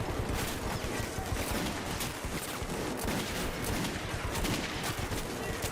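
Dense, rapid gunfire from a video game weapon, a crackling stream of shots packed closely together and sustained throughout, loud and unbroken with no voices over it.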